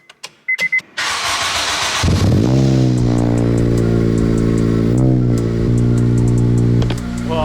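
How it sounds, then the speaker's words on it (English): An Acura RSX Type S with a Skunk2 exhaust and new spark plugs cranks briefly after a few clicks, catches, and settles into a loud, steady idle close by, with a slight rev dip midway. "now we're gonna just try turning this car on"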